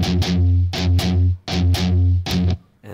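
Slow, heavily distorted electric guitar picks the intro riff of a song in short, choppy bursts with brief gaps between them, played alone and close without any talking.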